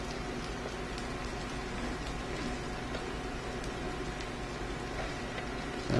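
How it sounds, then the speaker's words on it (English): Brussels sprouts and leeks sizzle in a hot pan, a dense, even crackling hiss that holds steady and close the whole time, with a small rise at the very end. "You can hear the sizzle."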